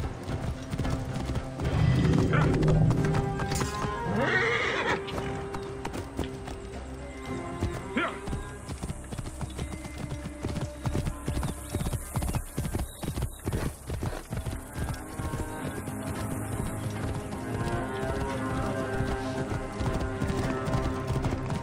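Horse hooves clip-clop steadily through Assassin's Creed Origins gameplay, with a whinny near the start and busy game sounds layered throughout.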